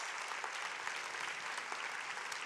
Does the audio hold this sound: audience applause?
yes